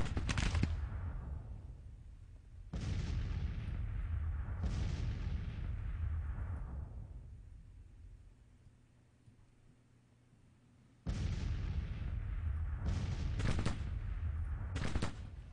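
Artillery in Grand Tactician: The Civil War booms in heavy, reverberant blasts at irregular intervals, each rolling into a long fading rumble, with a quiet lull before a fresh cluster of shots.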